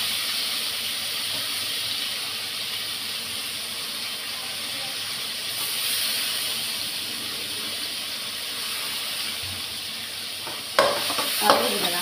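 Tomato sautéing in a pan with turmeric for a home lunch, a steady close hiss of sizzling with faint stirring throughout and a few sharper scrapes near the end.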